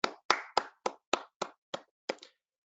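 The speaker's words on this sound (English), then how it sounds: "Let's give a round of applause one more time for Dr. Hummer and for Tarun and for Larry." A single person claps about eight times in an even, slow rhythm, sharp close slaps ringing out alone over silence at the close of an online innovations and solutions series session.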